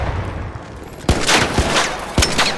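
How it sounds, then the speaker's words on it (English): Gunfire and rocket blasts in ARC Raiders from an enemy machine that flies around firing rocket launchers: after a quiet first second, three sharp loud impacts land roughly half a second apart, each followed by a rushing, crackling burst. "There is literally a thing that flies around and shoots rocket launchers on you."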